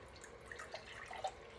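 Faint, close trickling of water with a few soft drips and splashes, like liquid being poured into a glass in a quiet room.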